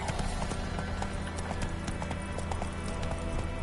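Steady clip-clop of horse hooves galloping in The Witcher III, a continuous rapid rhythm of close, evenly loud hoofbeats with a faint low rumble beneath and no talk.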